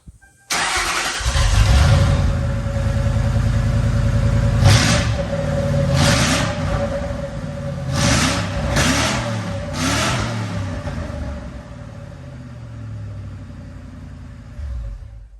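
A Ford Panther platform car engine starts and roars loudly with no exhaust fitted, then is revved in several sharp bursts before settling back to a rough idle.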